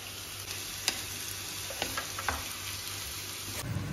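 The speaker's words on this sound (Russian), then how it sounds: "И обжариваем все на растительном масле." Onion and grated carrot frying in vegetable oil in a pan make a steady, quiet sizzle throughout, with a few soft clicks and stirring sounds, no voices.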